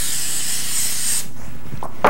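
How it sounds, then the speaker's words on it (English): Cooking oil sprays from a can onto an electric griddle set to 325 degrees, a loud, steady hiss lasting just over a second, then quiet with faint kitchen clatter. "we're going to spray the pan lightly with cooking oil"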